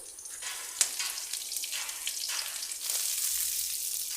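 Steady sizzling of garlic frying in a pan, a continuous hiss with occasional crackles and one sharp pop, no talking.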